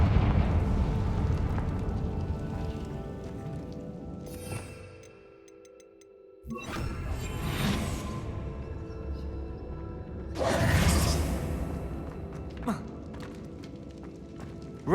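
Confringo fire spells blasting in Hogwarts Legacy, loud explosive bursts that flare up several times over a rumbling game soundscape, with a short near-silent gap between blasts and a faint voice in the mix.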